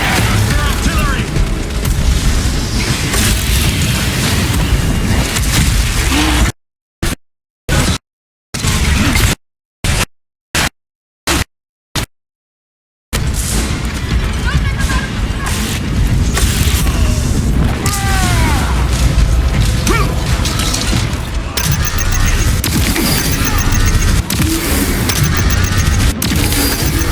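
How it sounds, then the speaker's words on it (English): Artillery explosions in Warhammer 40000: Space Marine 2, a barrage of loud booms and crashing impacts over a chaotic battle din, broken by a stretch of near silence in the middle before the pounding resumes. "Artillery!"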